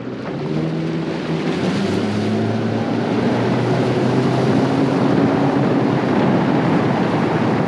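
A Gator Trax 1754 boat powers up from a dead stop on the water, its engine a loud, steady roar with rising drone tones, mixed with rushing water and wind noise throughout.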